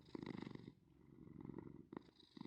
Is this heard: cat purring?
yes